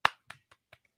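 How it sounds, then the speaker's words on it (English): A small round of hand clapping, a few sharp claps: one loud clap, then softer, unevenly spaced ones tapering off, with no talking. "We always give a little clap for the YouTube members."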